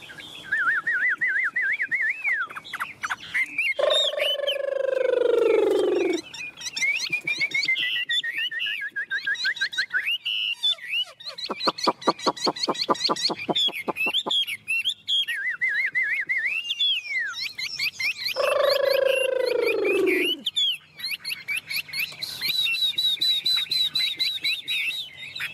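A tamed Chinese hwamei songbird sings loud, varied whistled phrases nearby, with rapid trills, sweeping slurred notes and buzzy chattering bursts repeated across a long stretch, no talking.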